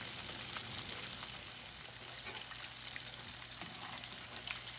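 Catfish sizzling and frying in a pan of hot oil, a steady, fairly quiet crackle with scattered pops running throughout and a low hum beneath, no voices.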